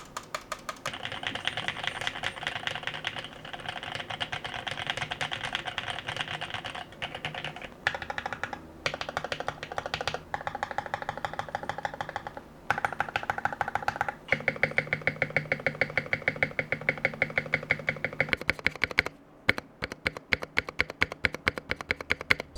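Typing on a custom mechanical keyboard with freshly lubed switches and a holy-modded larger stabilizer, a steady, close run of dense keystrokes with brief pauses and occasional heavier thocks, no talking.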